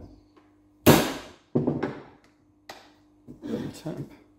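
Sharp metallic taps of a hammer on a socket drive king pin bushes held in a vise, four or five close, separated knocks with brief ringing tails.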